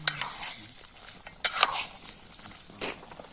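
A spoon stirs ginger and garlic into chicken in a pot, giving scattered scraping and clinking strokes against the metal with a faint sizzle underneath, close and intermittent.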